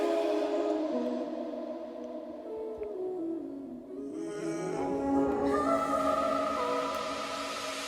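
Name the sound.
new vocal samples and harmonies in the music track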